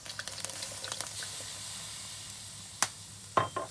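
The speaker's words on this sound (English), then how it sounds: "We're going to add a little bit of soy sauce" Soy sauce hits a hot wok that has not been cleaned, giving a faint hiss that fades over a few seconds, with a few sharp clinks and taps and a louder scrape near the end.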